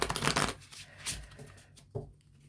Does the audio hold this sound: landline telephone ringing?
no